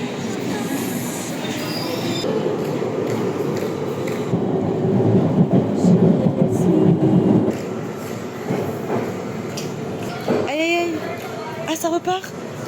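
A metro train rumbles along steadily, growing louder in the middle, then its wheels squeal sharply in repeated bursts near the end, with faint voices in the carriage.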